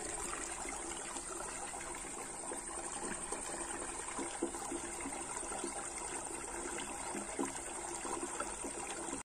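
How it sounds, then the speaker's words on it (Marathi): Hot spring water bubbles and trickles in a natural pool, a soft continuous burble of flowing water heard from nearby. "तुम्ही बघताय की या कुंडामधून गरम पाण्याचे किती बुडबुडे येत आहेत ते"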